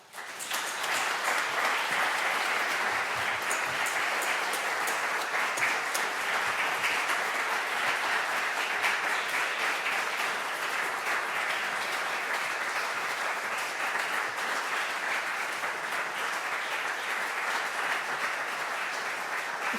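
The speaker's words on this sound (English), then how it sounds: "I feel like you're all clapping for me." Sustained applause from an audience at a university faculty book celebration, dense and steady clapping that fills the whole stretch without pause.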